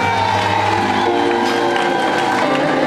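A church congregation applauds and cheers throughout, a steady crowd wash of clapping at a deliverance prayer service, with faint voices mixed in.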